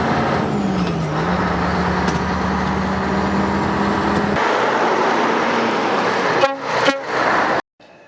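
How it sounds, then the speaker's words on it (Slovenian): A Scania 143 V8 tractor unit running without its semi-trailer gives off a loud, steady engine drone that carries on for several seconds, then stops abruptly with a few brief clunks. "Vlačilec brez polpriklopnika je pospeševal kot osebni avto."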